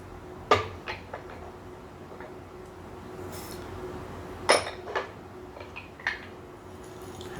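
Porcelain or glass teaware clinks a few times while being preheated for brewing a 1980s Oriental Beauty oolong, sharp light taps scattered over a quiet background with no talking.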